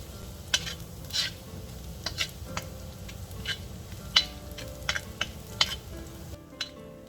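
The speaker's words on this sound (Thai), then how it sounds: "Add garlic, fry until fragrant. Then add sliced onion in the wok." Garlic and sliced onion fry in a wok for a Thai trout dish, a soft background sizzle punctuated by sharp clicks and scrapes of a utensil stirring against the pan at irregular intervals.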